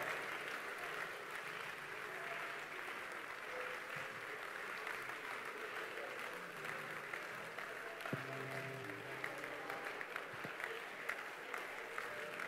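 A church congregation claps steadily through a fervent prayer session, the dense clapping continuing at an even level for the whole stretch with a faint murmur of voices underneath.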